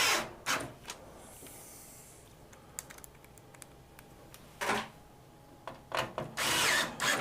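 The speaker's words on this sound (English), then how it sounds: "This one happens to have more screws to screw in for the motherboard." Power screwdriver driving motherboard screws into a PC case, several short whirring bursts separated by quiet gaps and light clicks of handling, close and clear with no talking.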